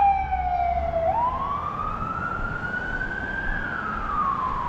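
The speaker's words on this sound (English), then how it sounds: "I was going to let the ambulance go by." Ambulance siren wailing as it passes nearby in traffic, one loud sweeping tone that rises and holds steady over a low rumble of road noise.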